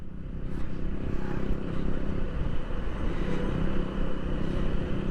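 A motorcycle cruising along Marine Drive road in Cox's Bazar, between sea and hills, giving a steady, continuous low engine drone with rushing wind noise and no voices.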